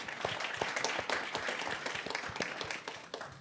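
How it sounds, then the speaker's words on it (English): Applause from a conference audience after a panelist's remarks, moderate and fairly close, with individual claps audible in a steady patter throughout. "I want to make sure we all give you another round of applause for what you said on stage."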